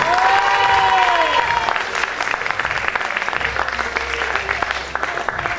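A crowd in a hall applauds the thirteen candidates at the Miss Aisne 2020 beauty pageant. The steady, dense clapping is heard alongside a brief musical tone early on.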